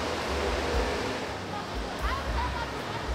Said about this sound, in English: And on the right is a lazy river.